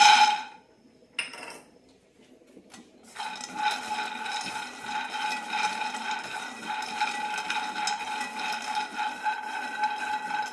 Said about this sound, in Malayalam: നിലക്കടല മീഡിയം ഫ്ലെയിമിലിട്ടാണ് വറക്കുന്നത്